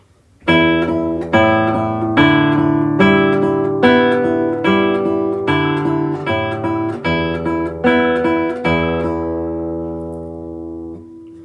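A nylon-string classical guitar plays Allegretto by Madame Sidney Pratten, plucked slowly, a low bass note with each beat and higher strings ringing over it in a steady repeating pattern, with no voices.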